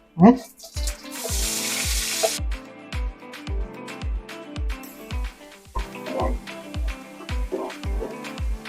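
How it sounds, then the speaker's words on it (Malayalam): Onions hit hot coconut oil in a pan with a burst of sizzling, then a series of regular stirring knocks and scrapes continues over a lower crackle, close and fairly loud. "വെളിച്ചെണ്ണ ഒഴിച്ചിട്ടുണ്ട് അപ്പോൾ ഗേസ് എണ്ണ ചൂടായിട്ടുണ്ട് നമുക്ക് ഉള്ളി ഇടാം"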